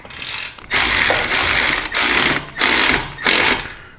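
Rapid mechanical ratcheting from a ratchet tightening a motorcycle exhaust mount while fitting a Tab Performance 50 Cal exhaust, four loud close bursts separated by short pauses.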